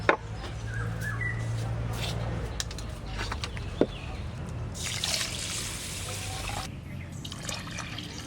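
Koi fish being rinsed with water, a continuous close trickle and splash with a few sharper drips and a louder splashing stretch near the middle, a faint bird in the background.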